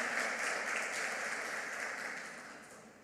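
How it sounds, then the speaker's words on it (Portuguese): Church congregation applauding during a sermon: a broad, continuous wash of clapping heard from a distance, fairly faint and slowly fading away toward the end. "Dá uma salva de palmas a Deus em nome de Jesus."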